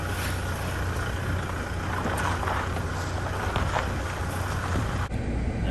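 A Toyota Hilux rolls along a heavily rutted dirt road, its engine a steady low drone under constant rumbling, rattling road noise with a few knocks from bumps and some wind buffeting.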